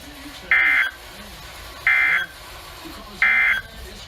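An EAS emergency alert attention tone for a flash flood warning sounds as three loud, steady electronic bursts about a second apart, each lasting roughly a third of a second over a quiet background.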